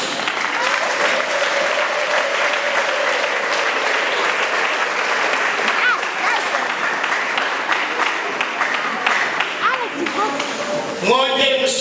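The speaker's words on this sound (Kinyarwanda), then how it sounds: "Mujye kwicara nsaba iteraniro mu Imana amashyi." A church congregation claps in a long, loud, sustained round from many hands, holding steady with voices mixed in before a voice briefly cuts through at the very end.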